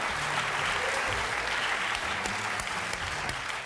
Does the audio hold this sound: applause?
yes